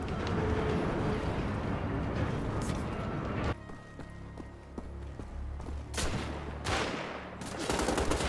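Enemy gunfire in the Wolfenstein: The Old Blood video game rattles in dense, loud bursts at first. It breaks off abruptly, then a few scattered sharp shots follow over a humming game background.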